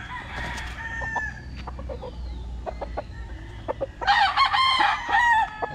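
Roosters crow on a farm, with a nearer bird belting out a loud, drawn-out cock-a-doodle-doo near the end after fainter crowing and scattered clucks earlier.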